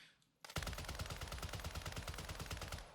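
Rapid automatic fire from a light machine gun in Warzone 2, opening after a brief near-silent pause and then hammering out a long, steady burst of loud, evenly spaced shots.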